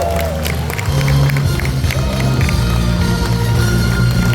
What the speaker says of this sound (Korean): 박수로 마무리하도록 하겠습니다